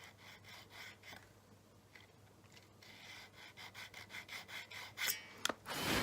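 A file rasping back and forth in the nut slot of a Squier Showmaster electric guitar, a series of short close scraping strokes that grow quicker and louder toward the end.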